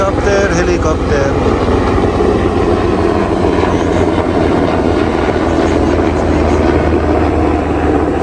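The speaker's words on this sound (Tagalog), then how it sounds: "Helicopter, helicopter." A helicopter passes overhead during an outdoor stop, its steady, loud rotor and engine roar filling the whole stretch without a break, with faint voices underneath.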